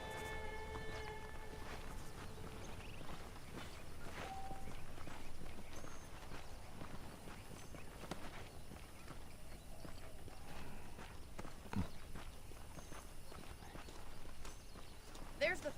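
Horse hooves clip-clop at a walking pace in the Red Dead Redemption western video game, quiet and fairly even against faint ambient game sound, with occasional soft footsteps.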